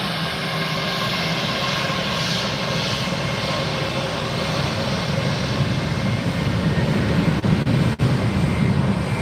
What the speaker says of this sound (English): Taxiing up in front of us now, JetBlue Flight 201 headed off to LAX. This is an Airbus 321.